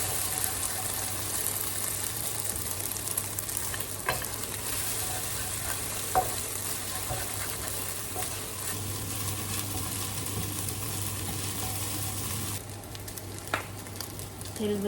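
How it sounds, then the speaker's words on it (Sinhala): Scrambled eggs fry in oil in a pan for a Sinhala egg pasta, giving a steady close sizzle with a few scraping stirs and clicks throughout, with no talk. "අපි බිත්තර ස්ක්‍රැම්බල් කරනවා කියන්නේ මේ විදිහට හොඳට මේක"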